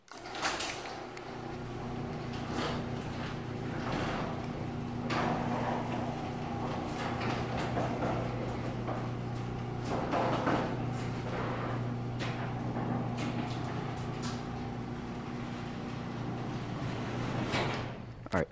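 A Whisper Drive garage door opener runs the door open, a steady mechanical hum with a low drone and faint clicks and rattles persisting throughout at moderate distance.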